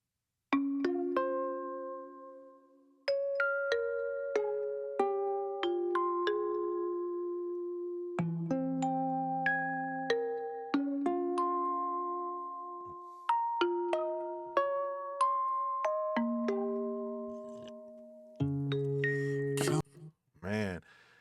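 Light, chiming bell tones from a song play a slow, stepping melody of sustained notes over about twenty seconds, clear and fairly soft, ending in a brief louder swell.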